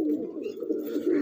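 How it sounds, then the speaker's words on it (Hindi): Pigeons kept in a loft coo steadily and close by, a continuous low throaty burble with no talk over it. "जीतू भाई अपने कबूतरों का थोड़ा बच्चों का वगैरह का शौक करवा दो।"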